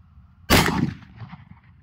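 A single sharp gunshot from a Mosin rifle firing an M855A1 steel core sabot round, loud and close, with a sudden blast followed by a short decaying echo and faint ringing.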